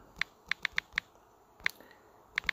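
Sparse keystrokes on a computer keyboard, about nine sharp, close clicks in small bursts with short pauses between, as a place name is typed. No one talks.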